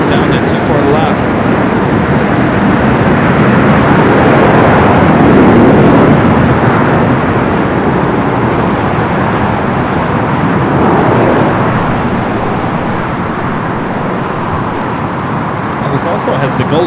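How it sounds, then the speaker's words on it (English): A Royal Air Maroc airliner rolls down runway 24 left at Los Angeles International Airport, its jet engines a loud, steady, broadband roar that fills the whole stretch while a voice talks over it. "Royal Air Maroc now started takeoff down to 24 left"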